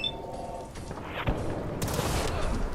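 Gunners firing in Sim Settlements 2, a close, loud burst of rapid gunfire with sharp cracks and a booming report, continuous over steady game ambience.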